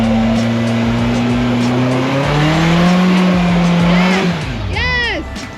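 A rock crawler's engine revs hard and steadily as its tires slip and spin on wet slick rock, then the revving drops away. People shout excitedly over it close by.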